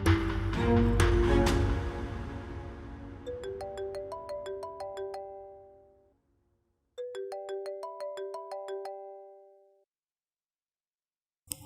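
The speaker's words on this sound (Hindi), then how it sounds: "फोन उठाओ मरियम" A mobile phone ringtone plays loudly in a home during a TV drama scene, a melodic electronic tune with repeated chiming notes that stops, pauses briefly, then rings again, with no talk over it.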